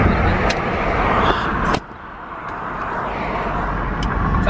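Road traffic surrounds a car in moving lanes, a loud continuous broadband rumble of engines and tyres that drops abruptly partway through and then continues as a steadier, slightly quieter wash, with no talk.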